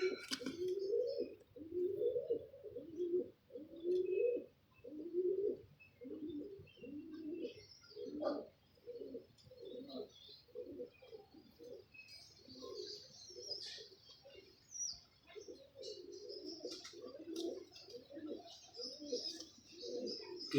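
Pigeons cooing in repeated soft, low, throaty bursts, fairly close and steady throughout, with a few faint chirps and light background noise around them.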